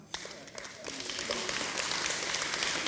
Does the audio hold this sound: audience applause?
yes